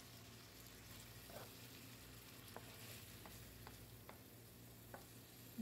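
Shrimp frying in a home kitchen pan give a faint, steady sizzle, with occasional stirring clicks and scrapes over a low background hum.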